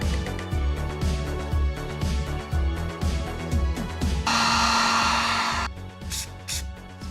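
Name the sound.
heat gun blowing hot air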